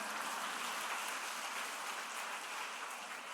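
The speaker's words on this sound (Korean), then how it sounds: "우리 아버지한테 박수 한번 보내줘." Audience applause at a church evangelism testimony gathering, a faint, steady wash of clapping with no break throughout.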